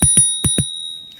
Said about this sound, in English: It also has the integrated bell.